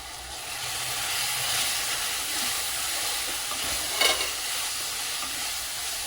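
Spiced bitter gourd with tamarind roasting in a pan, giving a strong, steady close-up sizzle and hiss with a brief louder crackle of stirring partway through.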